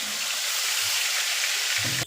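Steady crackling sizzle of turmeric-and-salt-coated fish frying in hot oil, close and continuous, with a faint clink near the end.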